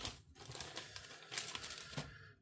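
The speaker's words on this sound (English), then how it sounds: "let me cut open the plastic bag here and bring out the first sprue" Plastic bag around a Hobby Boss 1/72 F-16C/D Fighting Falcon model kit sprue being cut open with an X-Acto knife and handled, giving close, continuous crinkling with a few sharper rustles and tears.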